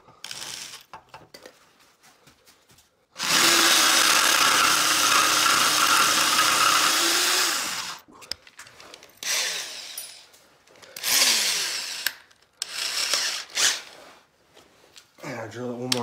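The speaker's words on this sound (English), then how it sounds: "I want to make sure I drill all the way down to where the last one went." A power drill cuts through a rivet in a truck frame, one long steady grinding run of about five seconds, then several shorter bursts and clinks, loud and close, with a voice briefly audible.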